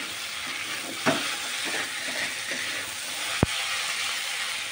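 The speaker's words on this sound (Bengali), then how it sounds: "এখন দিয়ে দিব লঙ্কাগুলো দিয়ে আরেকটু কষাবো।" Goat liver and chillies sizzle steadily in a hot pan, with soft scraping stir strokes and one sharp clack of the utensil against the pan, close up and without talk.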